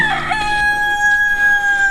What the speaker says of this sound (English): A lot of chickens here.